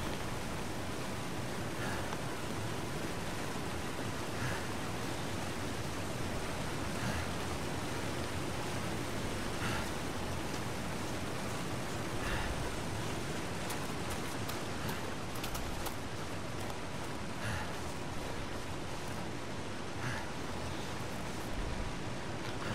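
A waterfall in The Long Dark video game rushes as a steady, dense roar of falling water, constant and loud throughout with no speech, broken only by faint occasional ticks.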